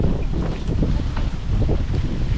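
Wind buffets a microphone on a walk beside the Sankey Canal, a steady low rumble with gusty surges and no voices.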